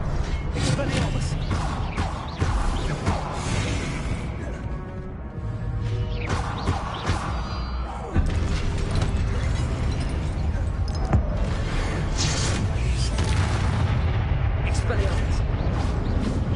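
Spell blasts in Hogwarts Legacy, including the disarming Expelliarmus charm, land as punchy bursts and crashing impacts during a duel, with a voice calling out spell names between the hits.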